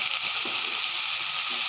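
Raw banana and potato pieces fry in oil in a kadai, giving a steady, even sizzling hiss throughout with no talking.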